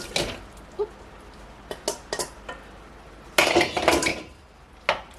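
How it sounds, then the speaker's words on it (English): Noodles tipped from a colander into a pot of cream of chicken soup, a few scattered clanks and clinks of metal utensils against the pot, then a brief clattering burst near the end, close with no talk. "Put your noodle in, guys."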